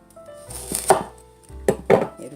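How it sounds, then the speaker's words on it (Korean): Knife chopping radish into 1 cm thick strips for drying on a cutting board, a few distinct sharp chops in two quick clusters, close and clear with no voices. "한 1cm 굵기로 썰어 주세요."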